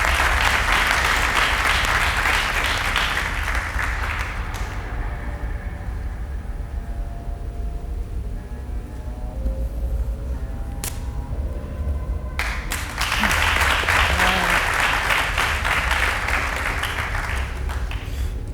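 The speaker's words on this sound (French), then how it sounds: "Vous pouvez applaudir." Audience applause on a television show, loud clapping at the start, dropping to a quieter gap with sparse sounds, then a second burst of clapping near the end.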